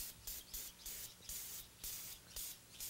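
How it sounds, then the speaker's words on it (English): Brake cleaner sprayed in short repeated hissing bursts onto a motorcycle hub's mating surface, roughly six quick spurts close up with brief pauses between, no talking. "You can just spray a small amount"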